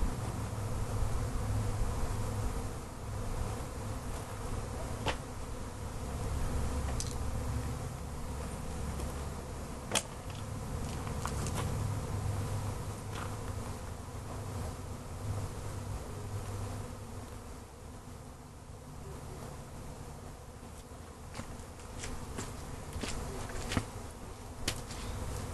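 A swarm of bees buzzes around a swarm box outdoors, a continuous, even drone that fills the whole stretch, with a few individual bees passing close now and then.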